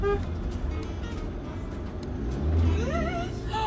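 A bus squeezes past a car on a narrow, rock-edged mountain road in Italy, a steady close engine rumble swelling with a deeper passing drone and a brief brake hiss, with no clear talk.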